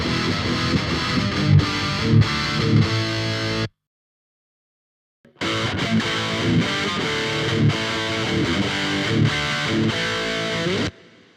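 A distorted metal guitar riff plays through a BOSS GT-1000 into a Marshall Silver Jubilee with a changed cabinet. Loud, chugging palm-muted chords and bright accents run for several seconds, stop for a moment of silence, then the riff resumes.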